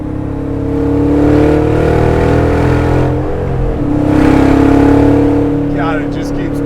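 A 750 HP Lingenfelter LT4 engine in a '63 Corvette Grand Sport revs loudly and close, rising and easing in two sustained pulls with a deep, steady drone.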